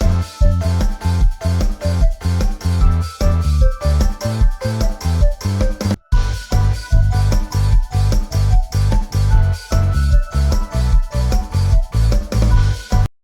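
A section of a Vocaloid song plays with a steady pulsing beat, then stops briefly and repeats a whole step higher, loud and full throughout.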